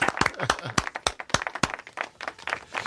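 An audience claps for a 75-year-old's birthday, a brisk, fairly faint patter of hand claps that runs steadily for a few seconds.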